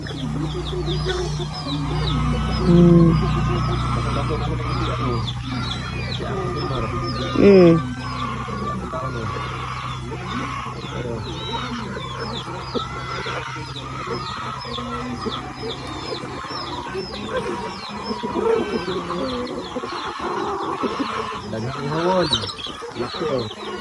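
Chickens cluck and call around a farmyard amid steady background noise and some voices, with a couple of louder squawks standing out near the start.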